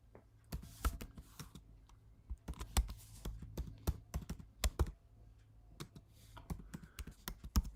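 Fingers type on a computer keyboard during a livestream, an irregular run of close, crisp key clicks and taps with brief pauses between bursts, and no talking over it.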